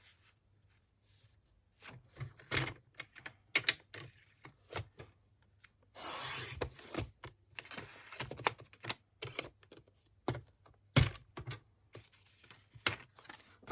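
Card stock being cut down by hand for a handmade card, giving a run of close, dry tapping and clicking cuts with a longer rasping stretch in the middle, alone with no voices.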